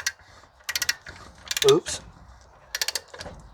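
A ratchet socket wrench clicks in quick bursts of rapid ratcheting during a brake job on a Ram 1500 truck, with a brief spoken exclamation in the middle of the clicking.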